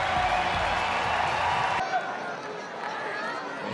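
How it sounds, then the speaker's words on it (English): Crowd noise at an NCAA regional college baseball game between Central Connecticut and Auburn, a broad roar of cheering that cuts off abruptly partway through and gives way to a thinner, quieter crowd murmur. "Listen to this crowd."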